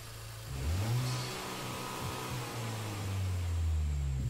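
A Honda Civic Type R in Gran Turismo Sport revs in a garage menu, its engine rising and falling in steady swells, clear and close, with no speech.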